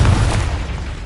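A single deep, booming blast from the Confringo fire spell in Hogwarts Legacy, loud and close, with a heavy low rumble that fades over about a second.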